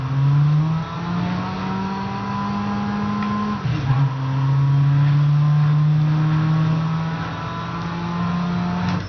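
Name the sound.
car engine revving in video game Midnight Club LA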